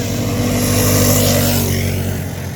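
A 125cc two-stroke minibike engine screams at high revs during a race, loud and close, holding a steady buzzing pitch before fading slightly as it pulls away.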